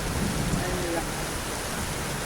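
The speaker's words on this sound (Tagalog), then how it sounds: "Umuulan, batch na ulan po dito sa Manila." Heavy rain pouring down in Manila during a thunderstorm, a dense steady hiss of downpour close by with no clear thunder claps.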